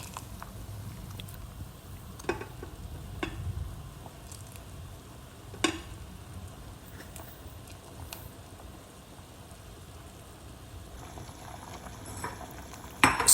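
Pot of water for porridge boiling on a stove, a soft continuous bubbling hiss with a few brief clinks and taps from stirring or handling, steady and moderately close.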